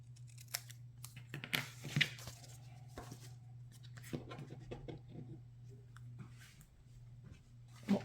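Scissors snip and rustle through patterned card paper while a handmade card is trimmed, quiet close cuts and paper handling over a low steady hum, with several sharper snips and no talking.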